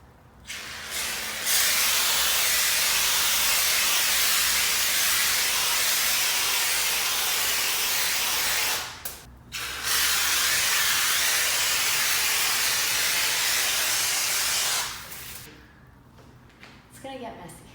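A sprayer hisses as wall texture is applied in a bedroom, two long steady bursts of close, loud spray separated by a brief pause, tapering off at the end.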